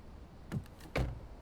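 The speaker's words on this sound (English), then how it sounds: "Oh, we can open doors." Car doors opening in an Unreal Engine 4 car configurator, two brief soft mechanical whirring clicks spaced about half a second apart, close and fairly quiet, with no talking.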